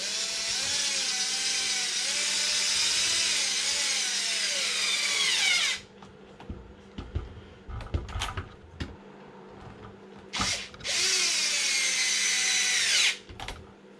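A power impact gun spins on the wheel nut of an Arrma Felony RC drag car, a loud sustained whine for several seconds, then brief stuttering bursts and clatter, then another long whining run close by.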